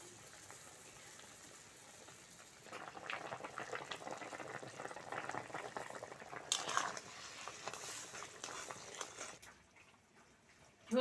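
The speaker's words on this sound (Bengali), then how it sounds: "ঝোল ভালোভাবে ফুটে গেছে" Curry gravy bubbling in a pot while a village-style radish, potato and bean curry cooks, a soft steady simmering hiss that builds midway and then eases, quiet and close, with no talk.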